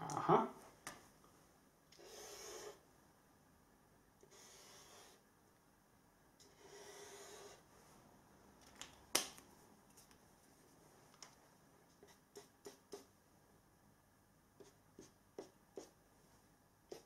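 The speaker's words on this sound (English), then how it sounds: "So I'm just going to draw in these other ones." Pen drawing a wiring diagram on paper for UK mains wiring reused for 12-volt lighting, with faint scratchy strokes and scattered light taps through a quiet stretch, close and soft.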